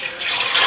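Potato slices for chips splash into a container of ice-cold water, a loud continuous rushing wash of liquid heard close up throughout.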